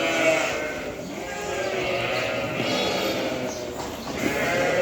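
A pen of fattening lambs on a livestock farm bleats continuously, with many overlapping calls filling the space at close to moderate distance.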